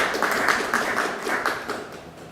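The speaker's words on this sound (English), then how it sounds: "Please give another big round of applause to our valedictorian" A graduation audience at Montego Bay Community College applauds the valedictorian, a moderate round of many hands clapping with a slightly pulsing rhythm that holds steady and thins toward the end.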